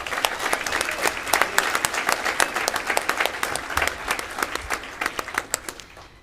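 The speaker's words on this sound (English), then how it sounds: "So let's give Bill a great big round of applause, even though he's not here." Dense, steady applause from a convention audience at a state FFA session, many hands clapping at once and continuing loudly throughout with no talking over it.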